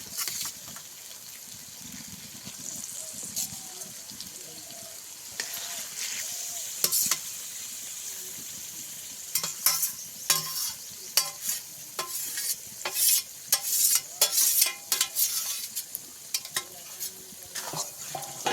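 Spiced pangas fish pieces sizzle in hot oil while being gently stirred and turned in a pan with softened tomatoes, steady frying hiss broken by scraping, clinking spatula strokes that grow busier toward the end.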